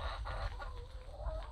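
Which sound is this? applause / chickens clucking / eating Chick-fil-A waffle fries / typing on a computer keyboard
chickens clucking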